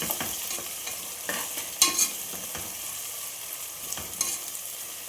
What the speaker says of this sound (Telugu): 1 స్పూన్ అల్లం పేస్ట్ వేసానండి. బాగా పచ్చివాసన పోయేంత వరకు బాగా వేయించుకున్నామండి.